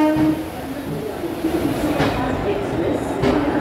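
Kolhapur–Hazrat Nizamuddin Express train pulling out of Bhopal Junction, a loud continuous rumble of rolling wagons with rail clatter and a faint horn-like tone, heard close from on board.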